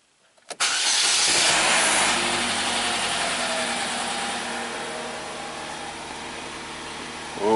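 A 2009 Chevy Cobalt, just repaired for a misfire fault, cranks and catches close by. It settles into a steady, even idle with a loud initial flare that slowly eases, and no voices are heard.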